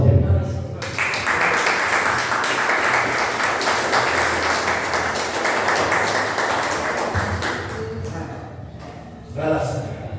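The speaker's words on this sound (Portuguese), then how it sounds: "As palmas, glória a Deus." A church congregation at a worship service breaks into a steady wash of clapping that lasts several seconds before fading, with a voice speaking over it and continuing after.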